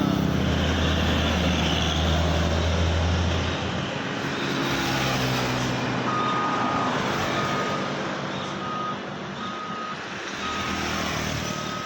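A truck's engine rumbles steadily close by, with intermittent reversing beeps sounding over the traffic noise.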